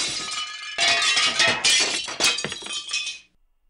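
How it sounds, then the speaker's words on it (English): Dishes crash to the ground in a burst of shattering glass and clinking crockery, several bright impacts and rattling pieces tumbling over about three seconds before abruptly stopping. "jostling the table and sending the dishes crashing to the ground"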